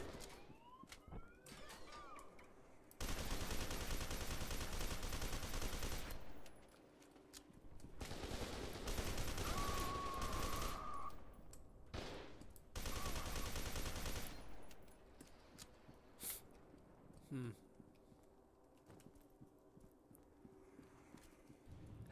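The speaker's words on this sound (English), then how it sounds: "Now there's not a sniper, I can just shoot guys." Gunfire in the first-person shooter F.E.A.R. 2: Project Origin, with long sustained bursts of automatic fire broken by pauses, single shots, and other game sound effects.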